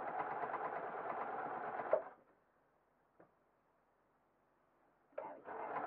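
A sewing machine stitches stretch jersey cotton in a steady, close whirring run that stops after about two seconds, then restarts with a short burst near the end after a quiet pause.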